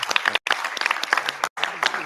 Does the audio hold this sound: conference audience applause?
yes